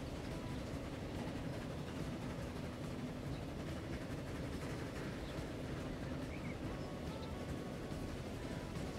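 A train runs in the Transport Fever 2 video game with a continuous, broad, steady rumble, and faint rail clatter sits under it at an even level for the whole stretch.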